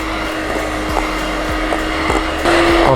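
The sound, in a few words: electric hand mixer whipping cappuccino cream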